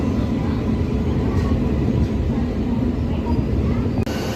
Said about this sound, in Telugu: సికింద్రాబాద్ నుంచి షాలిమార్ వెళ్ళే సూపర్ ఫాస్ట్ ఎక్స్ప్రెస్ అయితే వస్తుంది. వ్యాప్ 7 లోకోమోటివ్ తోటి.